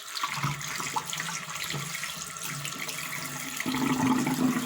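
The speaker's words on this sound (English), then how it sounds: "just fill it up with water" Running tap water pours into a rubber glove in a sink, a steady close rush of flowing water that deepens slightly as the glove fills, with no talking.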